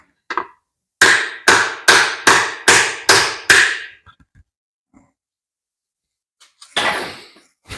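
A Morris Mini distributor part is tapped into position with six or seven loud, evenly spaced metallic taps. A brief knock comes just before them, a few faint clinks follow, and a louder rattle sounds near the end.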